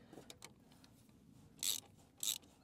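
A socket wrench ratchets on a fitting behind hoses on a front end loader. Two short, sharp bursts of ratchet clicking stand out over faint handling noises, close and fairly quiet overall.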